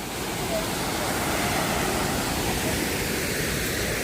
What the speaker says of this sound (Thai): อันนี้น้ำตกตาดผู้ปากซ่องแดนหนาวครับ